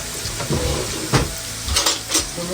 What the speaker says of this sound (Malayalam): ഇതിന്റെ പച്ചമണം മാറുന്നത് വരെ ഒന്ന് വഴറ്റി കൊടുക്കണം.